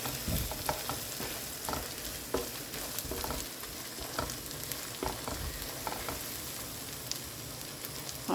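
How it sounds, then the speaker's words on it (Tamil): Masala frying in hot oil for mushroom biryani, stirred steadily with a spoon, giving a continuous sizzle broken by repeated scraping stir strokes, close and alone with no talk. "நல்லா அந்த எண்ணெயிலே வந்து பச்சை வாடை போகிற அளவுக்கு இந்த மசாலாவை கொஞ்சம் நேரம் அப்படியே வந்து புரட்டிக்கிறலாம்"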